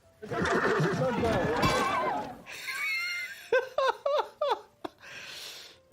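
A horse whinnies in several short, sharp bursts near the end, after a loud stretch of crowd noise and talk, at an outdoor royal equestrian event where a rider took a hard fall.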